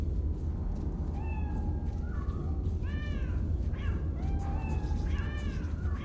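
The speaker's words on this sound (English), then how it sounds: "You can click on the cat, and it goes meow." Several cat meows from a game repeat over a constant loud background hiss, some rising and falling, others short and clipped, sounding synthetic and close.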